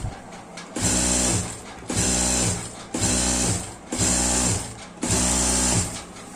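A sewing machine stitches elastic into the waistband of a salwar, running in five loud, even bursts with short pauses between them.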